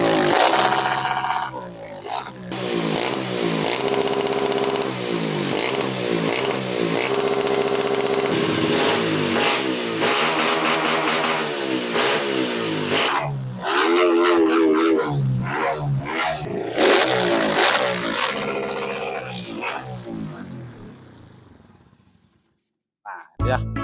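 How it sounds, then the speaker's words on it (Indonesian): Honda Win 100 motorcycle built as a custom scrambler, with the engine revving hard in repeated loud surges and dips, a rough mid-pitched exhaust note sustained for about twenty seconds before dropping away to near silence. "Oke, kita cek suara dari mesinnya sendiri ya"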